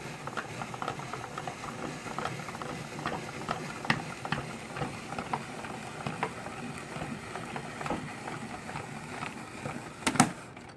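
Hand-cranked spiralizer turning zucchini into curly noodles, a steady stream of rapid ratcheting clicks and grinding from the cranking mechanism, close and continuous, with a sharper clatter near the end and no talking.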